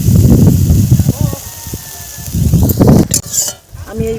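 Tomatoes fry in a hot pan, giving a loud, crackling sizzle that swells and eases in bursts as they are stirred, with a few clinks of a utensil near the end.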